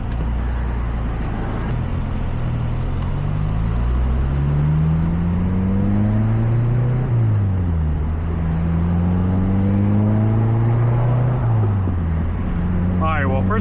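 A manual Acura RSX Type S with a swapped K24a engine drives off, its engine note climbing through the gears with a shift dip, loud and continuous from inside the car while someone talks over it.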